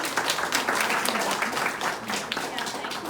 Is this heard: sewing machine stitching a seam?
no